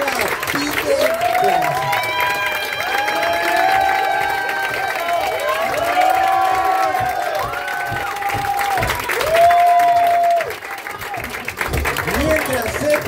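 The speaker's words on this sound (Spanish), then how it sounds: "¡Un fuerte aplauso para Kike!" A lively crowd at an improv competition final claps, cheers and shouts for Kike, with high excited voices and whoops layered over continuous applause at close range.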